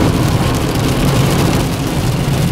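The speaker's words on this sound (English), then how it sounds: "Rain, go away." Steady rain patters on a car from inside, a dense continuous hiss with a low road rumble beneath, loud and close.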